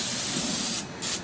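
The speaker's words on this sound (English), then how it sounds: "I'm going to use a little spray on" Cooking spray from a can hisses onto a grill rack before meat goes on, a close, sharp burst that stops briefly and then resumes for a short second spray, with no talk.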